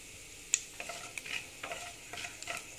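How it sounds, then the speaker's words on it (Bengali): Asafoetida frying in hot oil with mustard seeds, a faint soft sizzle broken by scattered light spoon clicks and taps, with no voices. "তারপরে দিচ্ছি হিং, দিয়ে এটা একটু ভেজে নিচ্ছি।"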